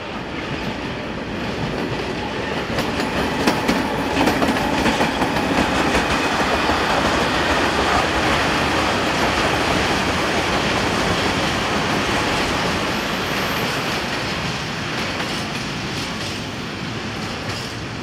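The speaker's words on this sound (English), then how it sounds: "Class 751 diesel, number 118, arrives with trip freight number 68720, the 1657 from Prievidza to Nové Zámky" Slovak Class 751 diesel locomotive arriving with a trip freight train, a loud, steady rumble of engine and rolling wagons with rhythmic wheel clatter that persists close by throughout, easing slightly toward the end.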